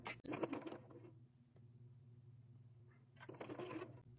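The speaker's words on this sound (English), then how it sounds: "I'm just going to do a basting stitch down to get these secure." A sewing machine runs a basting stitch on a dress bodice in two short bursts of quiet mechanical whirring, separated by a pause with low hum.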